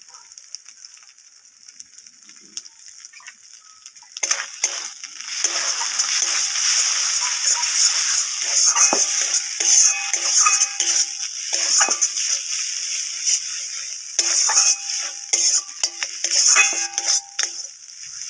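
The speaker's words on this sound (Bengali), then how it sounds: "মশলাটা আমি 5 মিনিটের মতো কষিয়ে নিয়েছি।" Spice masala with Kashmiri chilli and turmeric is stir-fried in hot oil. It starts quietly, then turns into steady, close sizzling and spattering, with repeated metallic scrapes and clinks from a spoon against the pan.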